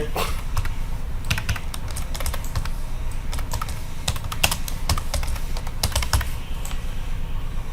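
Someone types profile details into an online course registration form on a computer keyboard, a dense, steady stream of close keystroke clicks without speech.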